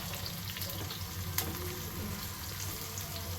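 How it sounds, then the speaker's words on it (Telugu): Sliced onions fry in hot oil for veg dum biryani, a steady close sizzle running throughout with a brief stirring clink and no talking. "ఇవి కొంచెం ఫ్రై అవ్వనిద్దామండి క్రంచీ కొంచెం క్రంచీగా వచ్చేంత వరకు"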